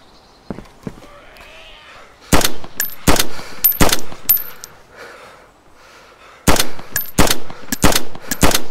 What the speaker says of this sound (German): Wir schießen jetzt ab.